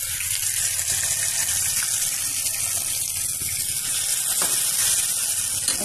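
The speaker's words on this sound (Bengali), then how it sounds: "মশলাটা দিয়ে একটুখানি পানি দিয়ে দেব।" Water is poured into a hot pan of frying ginger, garlic and roast spice mix, making a loud continuous hissing gush that fills the close foreground.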